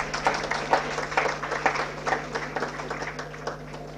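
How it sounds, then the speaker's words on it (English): Audience members at an international management conference give a round of applause: a moderate, rhythmic patter of clapping with regular pulses. "So let's celebrate this moment with a loud round of applause."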